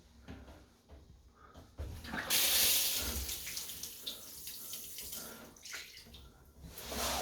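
A bathroom water tap is turned on and runs with a steady hissing splash, close by, after a few soft knocks and clicks.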